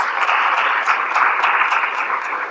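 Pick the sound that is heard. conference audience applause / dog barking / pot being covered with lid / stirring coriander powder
conference audience applause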